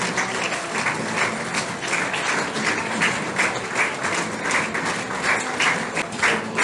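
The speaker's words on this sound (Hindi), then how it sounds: "तालियां बजती रहें" Sustained audience applause fills a Diwali celebration at the Brahma Kumaris centre in Dayal Bagh, Ambala Cantt, a dense, steady patter of many hands clapping at close range throughout.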